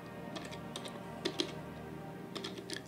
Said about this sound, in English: I need to just type in the chat